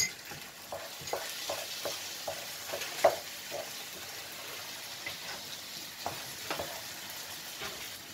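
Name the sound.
stirring stuffed grape leaf filling with salt and chili flakes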